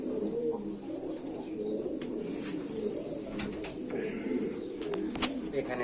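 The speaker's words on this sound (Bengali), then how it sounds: "এখানে এক জোড়া বেজি কবুতর আছে" Pigeons of a crossbred fancy type coo repeatedly inside a coop, soft rolling calls close by, with occasional chirps and faint talk in the background.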